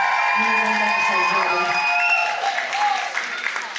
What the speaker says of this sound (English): Give them a cheer as they leave the stage.